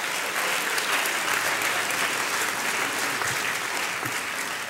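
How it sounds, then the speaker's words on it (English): An audience at a Black History Month 2018 community honors ceremony applauds steadily for nearly five seconds, a dense, even wash of clapping with no talk over it. "give him another round of applause"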